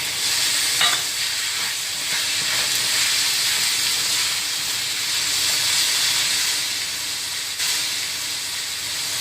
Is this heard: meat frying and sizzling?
yes